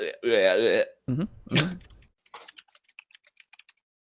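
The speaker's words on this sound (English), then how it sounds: "can hear you typing now." Typing on a computer keyboard heard as quick, faint scattered clicks over a voice call, following a few moments of speech and throat sounds.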